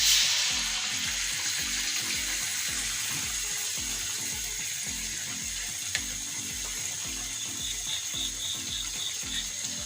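Banana slices fry in hot oil at night, giving a dense, continuous sizzle and crackle throughout with one brief sharp pop partway, close and steady with no talk over it.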